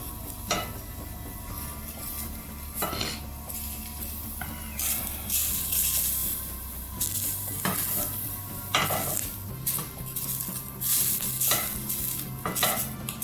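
Food fries and burns in an unclean pan, giving a continuous sizzle broken by repeated scraping and stirring strokes, close up and without talk.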